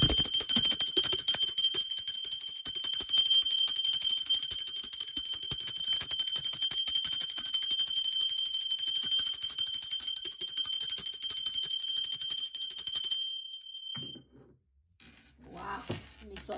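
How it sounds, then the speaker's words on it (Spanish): A bell rings out steadily with a bright, sustained metallic shimmer for about thirteen seconds, then fades and stops, leaving quiet with faint sounds. "Ahora sí, va campana."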